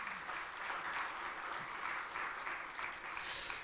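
An audience at a Democratic Party preliminary election rally for party leader candidates claps steadily, a dense sustained wash of applause filling the hall without pause.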